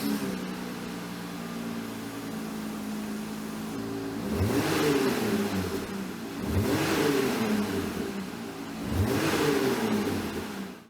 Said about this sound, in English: the MBRP axleback exhaust is installed. Let's fire up the Jeep and see how it sounds.